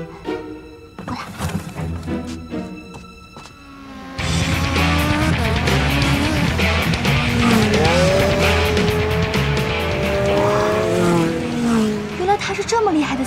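A race car revving and roaring with high engine whines and tire squeal, loud and close, coming in abruptly after a quieter start and continuing throughout.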